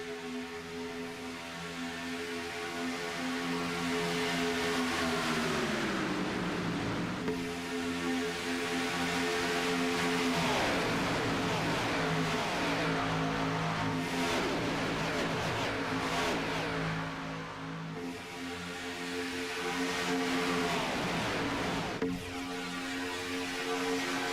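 Stock cars race at Talladega Superspeedway in a racing video game, with several loud engines droning together and pitch sweeps as cars pass close by, swelling and fading over a continuous roar.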